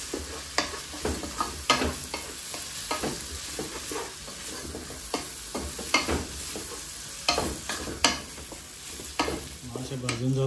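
Goan-style squid chilli fry with kokum sizzles in a pan while a spoon stirs it. Repeated rhythmic scraping strokes sound close over a continuous frying hiss.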